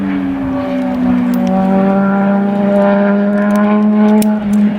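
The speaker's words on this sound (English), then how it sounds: "Nice motorcycle on the road." A motorcycle engine drones past on the road, its pitch sliding gradually lower as it goes by, loud and continuous for several seconds.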